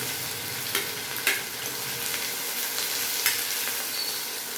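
Sliced onion and curry leaves crackle and sizzle in hot oil for a dosa dal, a steady close frying hiss punctuated by a few sharp clicks of a stirring spoon, with no voices.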